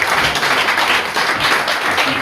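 An audience at a soundscape event applauds, a dense burst of clapping that is close and loud and holds steady for a couple of seconds.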